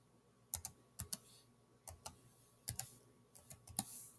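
Key presses on a computer keyboard entering a six-digit code, sharp clicks in small irregular clusters, close and fairly quiet against a faint background hum, with no voices.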